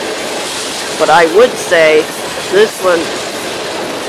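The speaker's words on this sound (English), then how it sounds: "this will be our last train of the day and the Memorial Weekend" A train passes on the Chicago Line near Buffalo, New York, heard as a steady rumbling roar over the whole stretch, with someone talking briefly over it.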